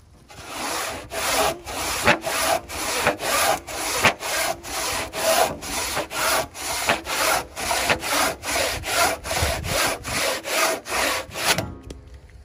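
A freshly sharpened vintage handsaw cuts through wood in about two dozen even, rhythmic strokes, each a close, crisp rasp with short pauses between, continuing alone for around twelve seconds.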